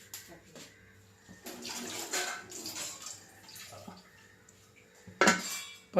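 Metal pots and utensils clatter in a home kitchen while a pot of jackfruit is covered with its lid to cook, with scattered knocks and scrapes and a sharp, loud clank near the end.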